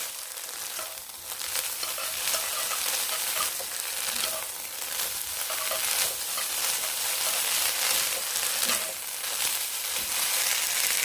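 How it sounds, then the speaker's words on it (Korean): Bracken fern namul stir-fries in perilla oil over high heat, a dense, steady sizzle and crackle close up, with soft scraping and stirring swells throughout. "들기름에 센 불에서 이렇게 볶아줘요."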